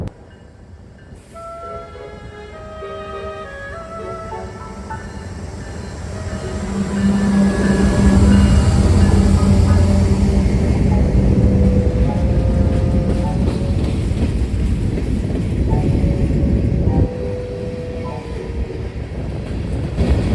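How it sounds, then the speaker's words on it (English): A northbound Union Pacific grain freight train rumbles past close by in Wichita, loud and continuous, growing heavier midway with a steady rolling roar of wagons. "the first train we saw was a northbound UP grain train"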